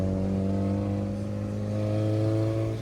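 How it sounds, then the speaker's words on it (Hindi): A car engine revs steadily, a steady loud mid-pitched drone held for a few seconds with strong harmonic hum, close to the microphone and with no talk over it. "मलिक साहब गाड़ी को रेसे दे रहे हो, इंजन आ जाएगा।"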